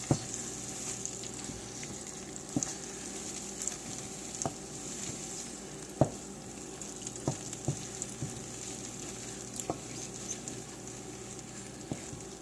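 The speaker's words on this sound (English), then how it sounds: "Next, stir the butter and marshmallows together and stop when they are thoroughly melted." Butter and marshmallows sizzle in a pan with a soft, steady crackle while a spoon stirs them, knocking against the pan at irregular intervals.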